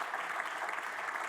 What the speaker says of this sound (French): On peut l'applaudir parce que franchement, moi j'ai appris énormément de choses